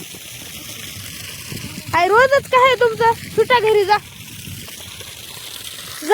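Water is sprayed onto murum gravel with a steady, close hiss and splatter, briefly overlaid by a person shouting.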